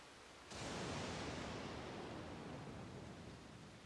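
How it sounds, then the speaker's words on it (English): Steady rain in SYNDUALITY Echo of Ada starts abruptly and settles into a broad, even hiss of falling water, faint and continuous, with no voices. "we got like Death Stranding rain"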